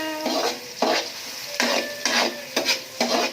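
Garlic, onion and ginger sautéing in a pan, a close sizzle punctuated by repeated spatula strokes roughly every half second, each a bright scraping burst, no voices.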